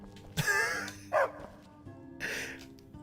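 Two or three short, gruff dog barks from an unseen dog in the video game Skyrim, spaced across a few seconds over quiet in-game ambience.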